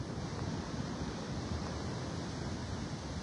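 Ocean waves rolling onto a beach, a dense continuous roar of surf with wind buffeting the microphone, steady and fairly loud throughout with no talking.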